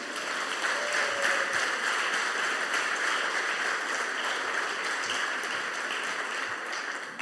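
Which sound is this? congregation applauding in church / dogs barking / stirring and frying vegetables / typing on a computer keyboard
congregation applauding in church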